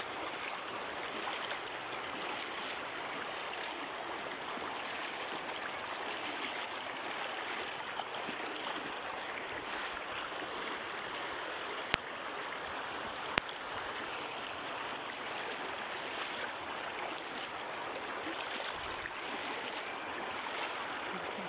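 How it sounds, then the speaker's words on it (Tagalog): A river crossing over non-slippery rocks, with water rushing and splashing steadily and close by for the whole stretch as a broad continuous wash, with no talk. "Tawid sa ilog."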